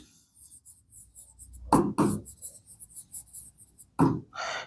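Pen or chalk writing by hand, a few short scratchy strokes that come in quick bursts with quiet gaps between them, close and distinct, with no talk.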